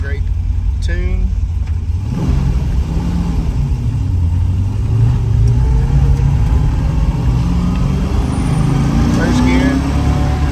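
A 1967 Shelby GT350 with a 4-speed gearbox, in good tune, revs and drops through the gears while driving, its engine pitch rising and falling in repeated sweeps, loud and close, with someone talking over it.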